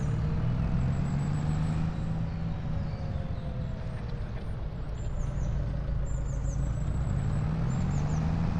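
Tractor engine running steadily while cultivating through a scratch crop, a constant low rumbling drone with a faint higher whine, heard close and alone for several seconds.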